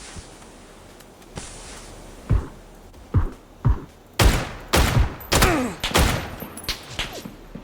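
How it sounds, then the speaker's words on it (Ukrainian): Gunfire in PUBG rings out as a string of sharp shots, sparse at first and then quickening into rapid bursts. The reports are loud and close, and each shot is followed by an echoing tail. "По мені з кімпи чи звідки стріляють"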